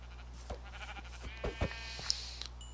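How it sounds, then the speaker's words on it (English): A sheep bleats in the Minecraft video game: a few short, faint bleats and soft game sounds, with one brief high chime near the end. "Hey, sheep."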